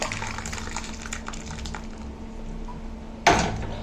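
Water goes into a pan of tomato masiyal, a South Indian side dish, as a brief, sudden splashing gush near the end after quiet kitchen background.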